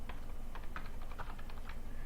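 Keys clatter on a computer keyboard during a Minecraft session in a short, quick burst of close, crisp taps over a steady low background hum.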